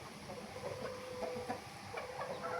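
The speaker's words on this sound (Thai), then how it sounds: "อันนี้ไก่ไหมครับพี่น้อง ทางนี้ไก่ไหมนะครับ" Silkie chickens cluck softly in a pen among a mass of faint, noisy background clamour, short calls scattered throughout.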